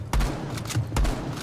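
Shotgun hip fire in the Rainbow Six Siege video game: two sharp, booming blasts about a second apart, each with a short tail, close and loud.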